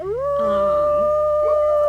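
A wolf in the WolfQuest video game gives a long rising howl, then holds a steady tone with another howling voice joining, close and clear over a low background hum.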